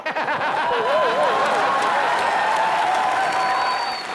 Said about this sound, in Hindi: जोरदार तालियां अकबर अंबर सर के लिए